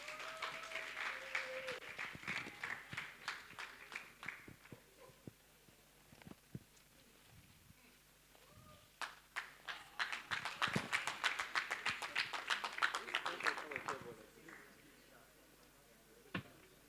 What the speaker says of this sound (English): Please, let's keep clapping until he takes the podium.